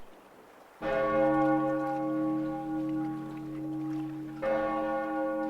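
A great temple bell tolls twice, loud and resonant. The first strike rings out with a long, sustained hum, and a second strike comes about four seconds later over a soft wash of rain.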